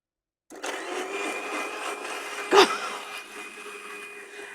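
A kitchen mixer grinder grinding chutney starts abruptly with a steady whirring drone and hum, holding a constant pitch after a brief sharp knock partway through, close and moderately loud.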